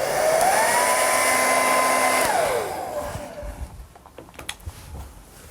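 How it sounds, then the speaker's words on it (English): A hairdryer blows steadily on a torn car leather seat under repair, a loud whirring tone rising at switch-on, then it cuts off and only faint handling sounds remain. "we can dry that area off to speed it up with a hairdryer"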